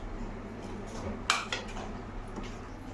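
Sago pakoras drop into a wok of hot white oil, giving a short clatter and sizzle against a quiet kitchen background.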